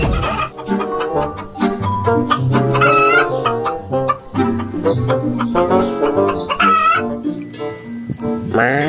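A rooster crows in the video game Jurassic World Evolution 2, its call standing out over a busy, continuous stream of game music and effects that plays throughout.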